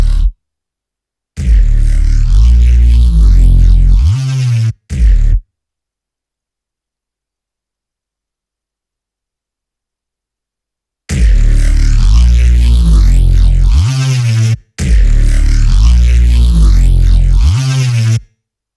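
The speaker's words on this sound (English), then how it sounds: "With all the external effects on, this bass sounds like this." Gritty synth bass built in Harmor with distortion, chorus and reverb, loud growling sustained notes in bursts separated by long silences, close and dense, no voices.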